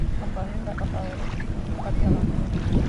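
A small boat rocks its way over the water near Banda Neira, a steady low rumble of hull and water with wind, under faint talk.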